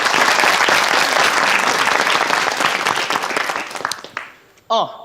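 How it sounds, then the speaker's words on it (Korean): Loud studio audience applause on the Korean quiz show Janghak Quiz, dense and sustained, then fading out near the end as a few whoops and a short musical or vocal cue break through. "박수를 한번 청해보겠습니다"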